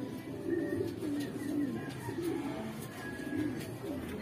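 A racing pigeon coos in soft, repeated low phrases as it returns during a pigeon race in Pilar, the calls close and steady against a faint background of outdoor ambience.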